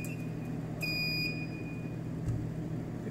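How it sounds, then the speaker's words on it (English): A homemade electronic garden alarm built to keep rabbits and other small animals out emits a short, loud high-pitched beep over a steady background hum, with no talking. "about to make alarm for small animals to prevent them from to get in the garden"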